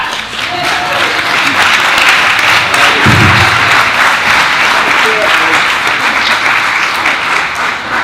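Wedding guests break into sustained applause after a toast, a dense wash of clapping that runs the full length, with a short low thump near the middle and faint voices mixed under it.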